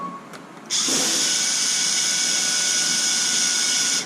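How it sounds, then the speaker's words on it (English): A power drill spins up sharply after a short pause and whines loudly and steadily at high pitch for several seconds, tightening a bolt into plastic on a Traxxas Wide Maxx 4S RC car kit. "Once you have the bolt dropped in, you're gonna take this drill"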